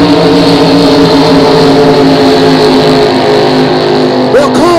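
Super stock flat-bottom racing boats roar at full throttle across the start line of a regatta, a loud sustained engine drone with shifting pitches from several boats and a commentator talking over it.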